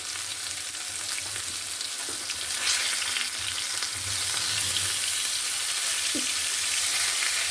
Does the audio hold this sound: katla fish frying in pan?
yes